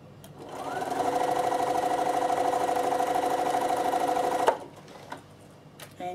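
A sewing machine stitches down a seam on a Christmas table runner, its needle running in a steady close whirring chatter for several seconds before stopping abruptly, followed by a few faint handling clicks.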